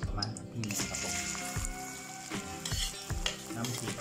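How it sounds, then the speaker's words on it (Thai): Oil and salt sizzle and fry in a pan while being stirred, a steady crackling hiss with scraping strokes, heard up close under a man's speech, as part of cooking stir-fried basil minced pork with red ant eggs. "นี่ก็ใส่น้ำมันเกลือลงกระทะครับทอดแล้วครับ"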